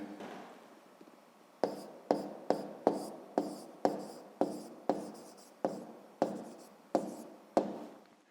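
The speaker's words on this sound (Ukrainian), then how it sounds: "Ну, а тепер записуємо відповідь." A pen writes an answer on paper in short scratchy strokes, about a dozen quick bursts in a loose rhythm after a quiet start, close and soft with no talking.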